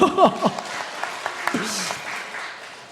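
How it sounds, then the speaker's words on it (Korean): Applause from a church congregation during a sermon, a burst of clapping that swells in the first half-second and then thins into scattered claps, with a voice speaking over it. "우리 박수 한번 합시다."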